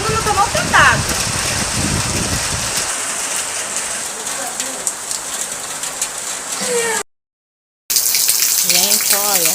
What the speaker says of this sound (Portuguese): tá chovendo horrores aqui